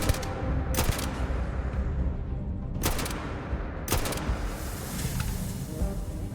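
Enemy gunfire in Starfield, several sharp bursts of rapid shots cracking out at intervals over a constant rumbling background, loud and close.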